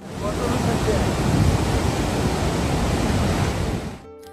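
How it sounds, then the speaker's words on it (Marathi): The Ganga river rushes loudly near Gangotri in the Uttarakhand mountains, a dense, steady roar of churning water that fills everything, then drops away abruptly just before the end. "नदीच्या प्रवाहाचा आवाज खूप जास्त होता"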